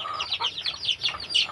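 Layer hens on a farm cluck in a quick run of short, close calls, one after another, with no talk.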